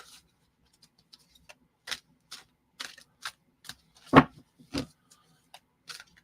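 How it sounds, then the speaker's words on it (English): Tarot cards being shuffled by hand, heard as a series of short, crisp riffling bursts spaced irregularly, loudest near the middle, with no talking. "Doing my cleansing shuffle here."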